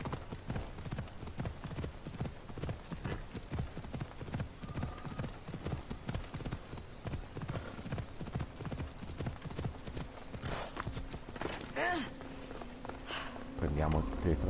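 A horse gallops in Assassin's Creed Odyssey, rapid rhythmic hoofbeats pounding steadily throughout, close and prominent, with in-game ambience underneath.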